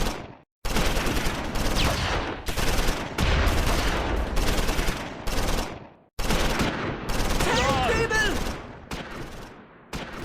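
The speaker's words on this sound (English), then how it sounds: "More brutal hand-to-hand fighting at the chateau." Dense bursts of rifle and machine-gun fire from the Close Combat 4 video game rattle almost continuously through hand-to-hand fighting at a chateau, loud and close, broken by a few short silences.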